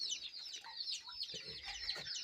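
An Aseel Amrohi hen clucks softly in quick, uneven notes, faint and close, with no talk over it.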